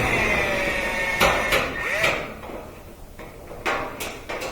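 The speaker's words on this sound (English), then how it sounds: "you take this, which is a 7/16 socket, and you undo a couple of screws here" Clanking metal taps and scrapes as a 7/16 socket undoes the front panel screws on a Whirlpool dryer that isn't spinning, close and moderately loud over a steady background hum, with no speech.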